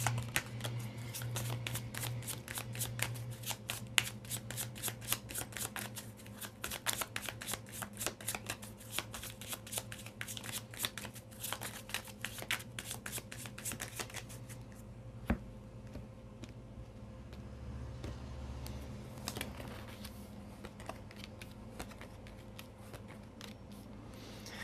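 A Lenormand (baralho cigano) deck is riffled and shuffled nonstop, close and crisp, with rapid card flicks for about fifteen seconds that then thin out into sparser taps and slides over a low, steady hum.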